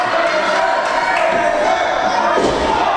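A wrestling crowd cheers in a steady, loud roar at a live match, with a few thuds and a swell of shouting near the end.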